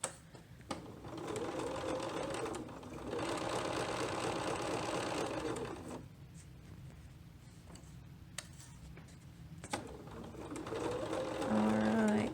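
A home sewing machine with a quarter-inch presser foot stitches a seam on embroidered net fabric, a steady close whir in runs broken by pauses, with a few clicks and soft voice-like murmurs between bursts.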